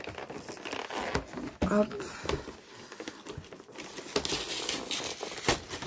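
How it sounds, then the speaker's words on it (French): Crinkling and tearing of plastic and cardboard packaging as a Pokémon-style Legends card box set is opened carefully, close and continuous with brief spoken words over it. "j'essaie de l'ouvrir sans tout déchirer"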